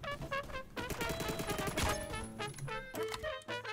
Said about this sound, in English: Someone's shooting over there.